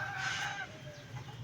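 A rooster kept among gamecocks gives a short, faint crow, followed by soft clucking in the background, heard quietly from a distance for just over a second.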